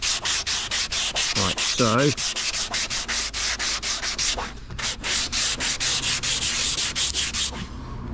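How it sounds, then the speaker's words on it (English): Fine-grit sandpaper worked by hand over a fibreglass Greddy Gracer-style front bumper for a 1992 Nissan 300ZX Z32, refining earlier 80-grit scratches: steady, rhythmic close-up rubbing strokes with a brief pause midway and a short spoken remark. "just going over by hand, following the contour over the areas that I've done with the 80"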